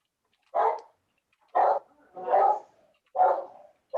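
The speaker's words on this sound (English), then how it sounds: "Sorry about the dog." A dog barks nearby in an indoor meeting setting, five separate mid-pitched barks spaced about a second apart against near silence, with no talk.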